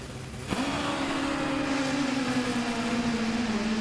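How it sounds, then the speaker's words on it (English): A Top Fuel drag racing motorcycle accelerates at an NHRA event at Virginia Motorsport Park, a loud, steady engine roar after a sharp onset with a slowly falling pitch as it pulls away, heard over broadcast ambience. "Top Fuel Motorcycle, Spider-Man, McBride."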